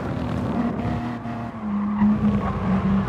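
A race car at Interlagos in Gran Turismo Sport drifts through a corner with heavy oversteer, a sustained engine drone overlaid by squealing, skidding tyres that grow louder and harsher toward the end.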